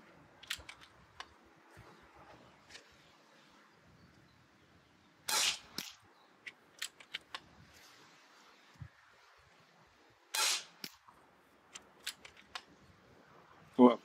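A Kervan Arms AirBoss K2 PCP airgun, unregulated, fires JSB Exact Jumbo pellets at 55 yards, giving several sharp, widely spaced cracks among small clicks and handling noises.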